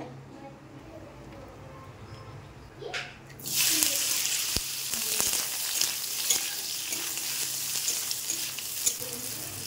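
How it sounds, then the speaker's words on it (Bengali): Wok heating for a ridge gourd curry made without spices, quiet at first, then a sudden sizzle and frying hiss that rises and continues steadily, with clatter of stirring. "আমি কড়াই চাপিয়ে দিয়েছি, এখন করব ঝিঙে দিয়ে তরকারি।"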